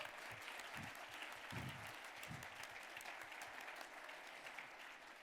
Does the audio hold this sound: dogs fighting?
no